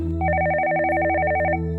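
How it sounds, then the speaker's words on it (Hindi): A telephone rings in a Hindi TV drama scene: one sustained electronic trill of rapidly pulsing tones, loud and close, over a quiet room background, with no talk. "मैं फोन सुन के आती हूँ।"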